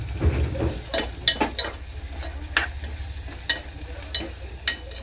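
Ginger paste frying and being stirred in hot oil for a drumstick curry, with a steady close sizzle and repeated scraping strokes of a spoon against the pan.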